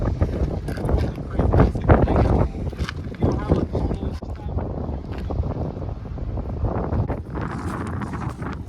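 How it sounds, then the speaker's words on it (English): Strong wind buffets the microphone at Kama Beach at high tide, loud low rumbling gusts that surge and ease, while a person talks over it. "It's extra windy today,"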